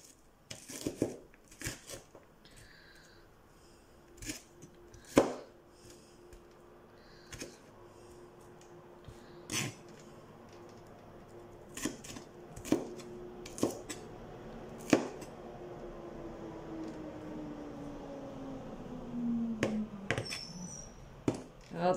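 Onions being chopped with a knife on a cutting board for homemade cheese and tomato soup: a steady series of sharp, close knife thuds in an irregular rhythm, loud and alone with no talk.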